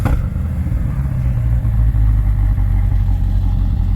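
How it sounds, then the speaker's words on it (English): A 2023 Corvette C8 Stingray's engine fires up on a cold start and settles into a loud, rough idle with a deep rumble and mechanical clatter, close by. "Cold start is really loud."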